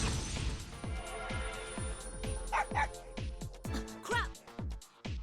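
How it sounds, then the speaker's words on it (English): A dog in the Persona 4 Arena Ultimax video game barks and yips sharply in a quick, regular series of calls, loud and close, with game voice and sound effects mixed in. "Koromaru's sharp barking brings me to my senses."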